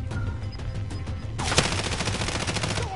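Rapid automatic gunfire in Call of Duty: Modern Warfare, a dense burst of shots starting abruptly about halfway through and continuing to the end, fairly loud over quieter game ambience.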